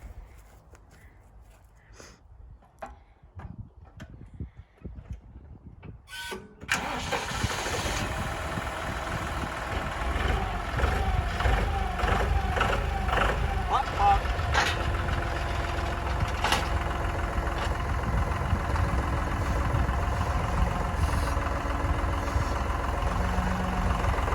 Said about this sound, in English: you're going to hear it when it starts and it goes pop, pop, pop, pop